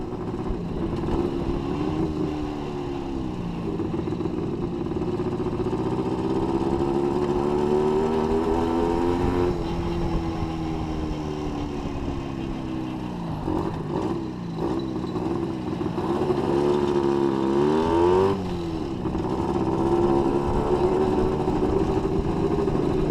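A Panther Villiers 250 twin two-stroke motorcycle runs steadily, its engine note rising and falling continuously throughout with no speech.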